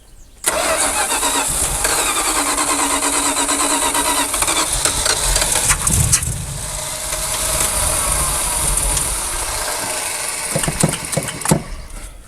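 An abandoned classic Dodge Power Wagon engine cranks and catches, a loud, rough mechanical churning that runs almost continuously and is punctuated by sputters and revs near the end.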